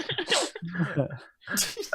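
During a tabletop role-playing session of Fate Accelerated, a person voices an imitation sneeze, a couple of short, breathy 'achoo'-like bursts close to the microphone, mixed in with ongoing speech from the players.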